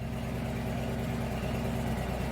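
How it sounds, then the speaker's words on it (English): Motorcycle engine idling indoors in a steady low rumble with an even pulsing beat, moderately loud and continuous, with fan noise in the background and no talking. "I'm gonna let this bike run for a few"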